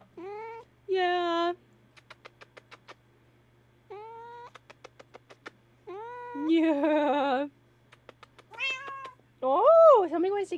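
A cat meows repeatedly, loud, drawn-out calls with rising and falling pitch, alternating with quick clicking bursts and near-silent gaps between.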